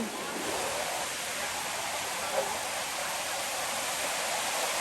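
Rushing river floodwater, a dense steady roar of flowing water at close range that stays constant throughout, with no clear speech over it.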